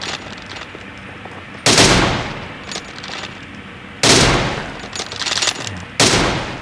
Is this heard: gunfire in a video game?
yes